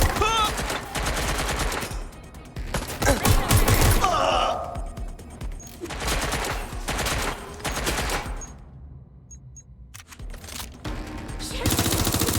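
Gunfire rattles in the Watch Dogs Legion video game, with loud bursts of automatic shots coming in waves, a brief lull, then more firing.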